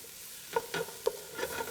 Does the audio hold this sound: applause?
no